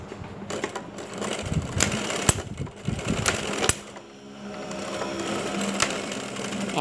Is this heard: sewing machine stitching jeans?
yes